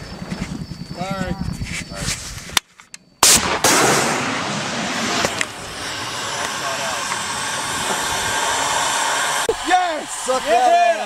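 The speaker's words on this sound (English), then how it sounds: "Hey, mortars are going too." Mortar and gunfire during a combat operation in Helmand, Afghanistan: sharp loud blasts and a sustained roaring wash of fire, with excited shouting voices over the noise.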